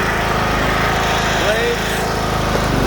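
A 42-inch Toro Timecutter Z4200 zero-turn riding lawn mower runs steadily at close range, its engine a continuous smooth drone with no breaks.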